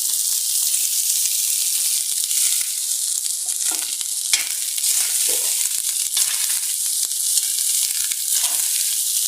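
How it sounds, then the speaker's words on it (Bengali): Leftover rice frying with potatoes in a pan, a dense, continuous hiss and sizzle with occasional scraping stirs, close and loud, with no voices. "রাঁধুনি তোমার দাদা এখন বাসি ভাতের ফ্রাই করছে"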